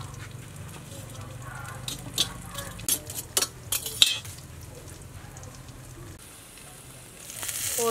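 Proma fish frying with egg in a pan, a steady sizzle running underneath as utensils clink and scrape against the pan in quick bursts, with a louder hiss building at the end.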